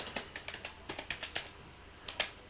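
Keys clatter on a computer keyboard as code is typed, a close, steady run of quick clicks in short bursts with brief pauses, no voice present.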